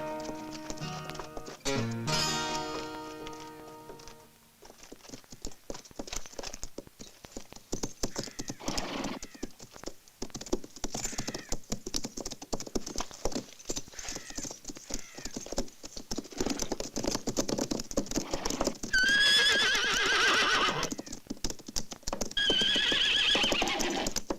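Many hooves pound in rapid, continuous clip-clop as horses gallop, with a horse whinnying near the start and more neighs later.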